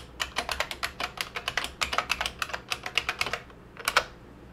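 Rapid, uneven clatter of keys on a computer keyboard as login credentials are entered during a software package install on Debian-based Linux, close and alone, with a brief pause before a final few strokes.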